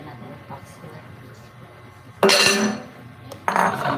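Breakable dishes and plates clink and clatter inside a box in two quick bursts, near and fairly loud, after a quiet stretch with faint background murmur.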